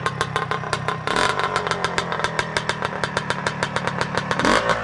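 A 1974 CZ250 motocross two-stroke motorcycle engine runs close by, a loud rapid popping idle with brief blips of revving, steady throughout.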